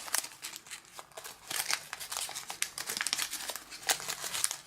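Paper being folded and collapsed into an origami Valentine flower, producing close, irregular crinkling and crumpling with quick bursts of rustle throughout.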